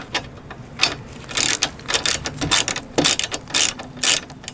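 A ratchet with a size 10 socket tightens engine guard bolts on a Suzuki V-Strom 800, giving rapid bursts of close, crisp clicking that stop and start in an uneven rhythm, with no voices.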